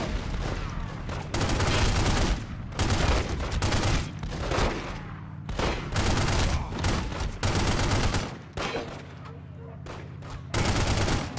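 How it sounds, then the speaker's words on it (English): Sustained bursts of rapid automatic gunfire in The Godfather video game, loud and dense, broken by brief gaps, with a voice faintly mixed underneath. "yep, gunshots."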